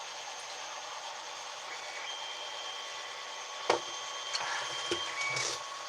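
A 3D printer runs on steadily, giving a continuous mechanical hum and whine with faint tonal lines. A few sharp clicks and small knocks come near the end. No one speaks.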